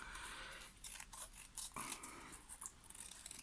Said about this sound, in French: je vais prendre mes ciseaux et puis là je vais retailler mes différents éléments